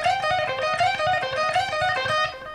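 A fast guitar solo lick on overdriven electric guitar, played cleanly at speed with quick repeated notes and bends, loud and close with no talking.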